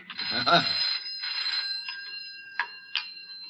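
An old telephone rings in a hut beside a canal lock in a 1972 comedy, giving bursts of bright metallic ringing that fade into shorter trailing chimes, with a voice heard briefly near the start.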